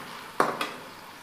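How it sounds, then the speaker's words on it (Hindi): Fried okra lifted from hot cooking oil: two quick metallic clinks of a utensil against the pan, close and fairly crisp, over a faint, steady kitchen background. "ये भिंडी है ना अब तल चुकी है, मैं इसको निकाल रही हूँ"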